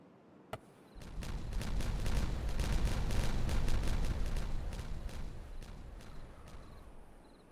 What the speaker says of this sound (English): So we'll be right back when I have more explosions to happen. It's explosion time.